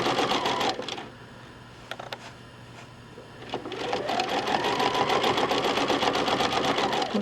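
Sewing machine free motion quilting a log cabin block: rapid, even stitching bursts run close and loud, pausing briefly in the middle before resuming steadily.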